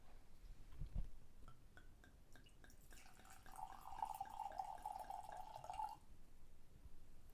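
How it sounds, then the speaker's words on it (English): Trader Joe's Carneros Pinot Noir poured into a wine glass: a faint, steady liquid trickle lasting a few seconds, preceded by soft clinks and handling noise, with no talking. "Let's go ahead and pour it."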